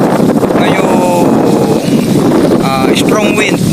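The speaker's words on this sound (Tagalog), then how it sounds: "strong wind, may pabusok ng hangin." Strong wind buffets the microphone in an open rice field, a loud, continuous rushing roar, while people talk over it.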